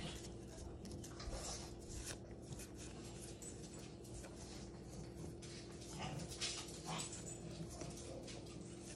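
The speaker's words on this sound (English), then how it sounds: "If you can hear the noises in the background, those are my dogs." Dogs whimper and whine off in the background, faint and intermittent, over a steady low hum with some muffled movement.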